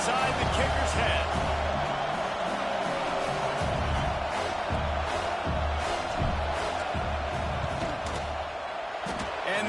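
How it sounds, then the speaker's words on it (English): A stadium crowd at a college football game roars in a dense, steady wash of noise during a field goal attempt, with an announcer's voice faintly underneath. "This crowd trying to do its part to get inside the kicker's head."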